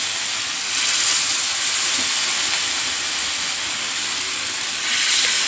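Hara bhara kebabs shallow-fry in hot oil over a low flame, giving a continuous, fairly loud, even hiss with gentle swells. No talking is heard.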